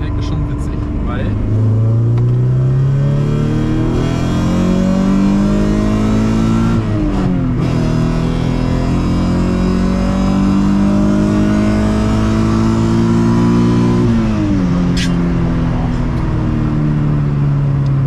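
A light Honda Civic coupe with a 2.2-litre H22 VTEC engine accelerates hard through several gears, its loud engine note climbing in pitch and dropping at each shift, with people talking over it inside the car.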